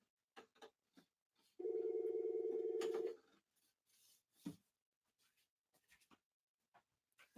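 A telephone rings once during a live support-group stream, a steady buzzing ring of about one and a half seconds in a quiet room, with faint clicks and small rustles before and after.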